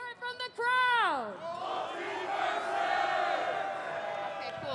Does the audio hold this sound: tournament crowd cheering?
yes